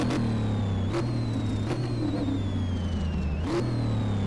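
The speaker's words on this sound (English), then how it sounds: "you can listen to that freaking that supercharger whine" A steady car engine in the video game Car Mechanic Simulator drones with a thin, high supercharger whine gliding across its pitch, punctuated by a few brief bursts; continuous and fairly close.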